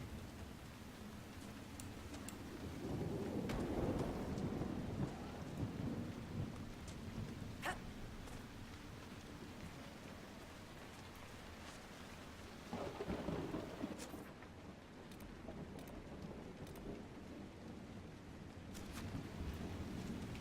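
A video game thunderstorm in Crestwood: soft steady rain with rolling thunder rumbles swelling twice, plus a sharp crack of lightning, all fairly faint, with no talking.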